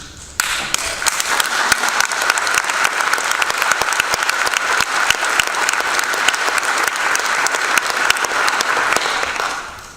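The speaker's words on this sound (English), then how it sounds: "Never had anybody clap during this." An audience claps during a talk, a loud, sustained burst of many hands with crisp individual claps standing out, starting abruptly and holding steady for about ten seconds before easing off, no voices on top.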